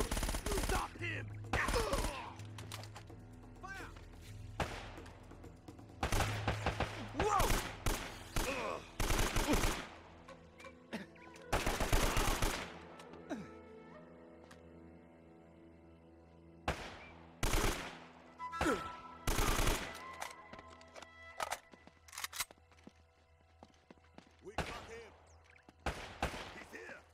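Bursts of automatic gunfire and rapid shots from a firefight in the action game Uncharted: Drake's Fortune, coming in repeated loud volleys separated by quieter gaps.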